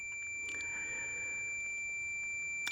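A multimeter's continuity beeper sounds while testing a cheap decade box set to about 40 ohms: one steady, faint high-pitched tone that runs unbroken throughout, ending with a brief click.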